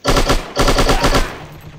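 Rapid automatic gunfire in the shooting game Striker: two loud, close bursts of fast repeated shots with a brief gap between them, the second trailing off into echo, with no talk.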